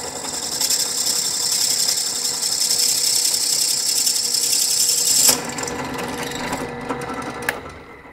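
An electric drill bores into a candlestick clamped between leather pads, a loud steady high whir for about five seconds that drops off abruptly, followed by quieter mechanical clicks and a sharp tap.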